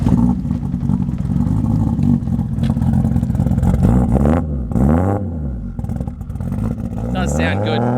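A Toyota JZX90 Mark II with an aggressive cam lopes at a choppy, rumbling idle, then revs up and down in a few sharp blips, loud and close.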